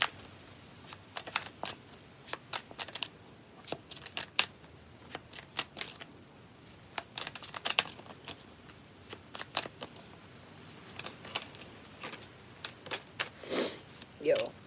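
A deck of playing cards being shuffled in repeated bursts of quick riffling and snapping, close and fairly quiet, with short pauses between each shuffle.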